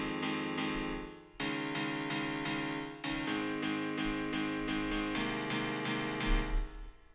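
Basic FL Keys piano from FL Studio playing sustained chords in a progressive house break, steady and full, with a brief dip near one and a half seconds and low bass swells underneath.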